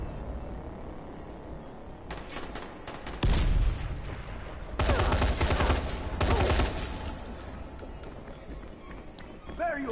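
Gunfire in a museum in the zombie game Dying Light, several loud bursts of rapid shots in separate clusters over background noise, with people speaking between them.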